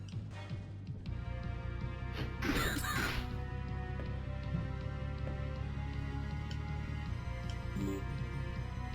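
Crows cawing from a Murder of Crows spell in a horror dungeon video game, a few harsh caws over a steady droning music bed with light ticking.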